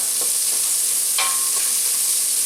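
Sausage frying in a pan as its fat renders out, giving a steady close sizzle with a few brief scrapes or crackles over about two seconds, no voices.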